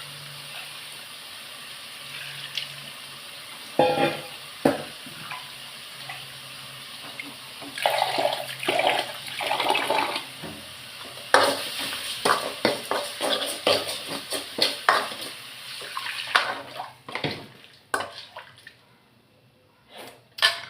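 Tamarind water poured into a pan of oil-fried ingredients while cooking, a steady splashing and sizzling pour with scattered clinks of a utensil, fairly close and continuous, no talking over it.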